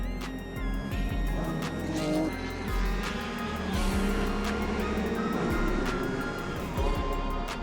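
Endurance race cars in a six-hour WEC race on a winding circuit just over three miles long, in heat over 30 degrees, with loud continuous engine roar and several cars passing close by, shifting pitch as they go.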